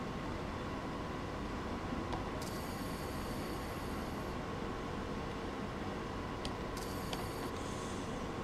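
BR 112 electric locomotive braking on the Hamburg–Lübeck line in Train Sim World 2, a steady low rumbling roll with faint high hissing squeals of the brakes coming in twice, no talk.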